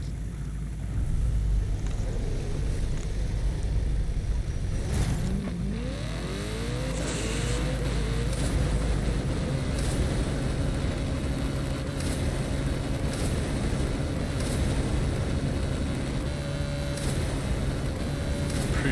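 A BMW in the Forza Horizon 5 racing game holds a loud, continuous engine drone at high speed along a straight, with a rising rev sweep midway and steady road roar throughout.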